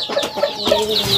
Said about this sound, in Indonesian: Sorry kalau agak berisik, di sini banyak ayam ya.